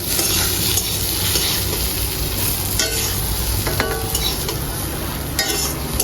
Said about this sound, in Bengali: তো আমাদের মান কচু ভাজা হয়ে গেছে